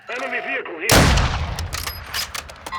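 A single loud, sharp sniper rifle shot in Call of Duty: Modern Warfare II DMZ fires after a brief voice, followed by a decaying boom and scattered distant gunfire.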